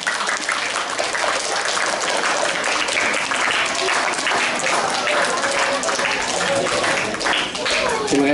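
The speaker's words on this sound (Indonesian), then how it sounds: "Berikan tepukan gemuruh kepada mereka bertiga" Loud, thunderous audience applause at a mosque event in USJ, dense continuous clapping sustained throughout, filling the space with a roaring wash.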